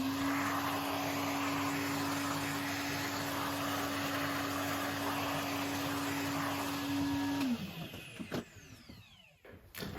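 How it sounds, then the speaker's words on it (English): A Hoover vacuum cleaner runs over model railway winter scenery with a loud, steady whine, then powers down and winds off, leaving rattling and clattering handling noises. "we couldn't have a winter special without the Hoover"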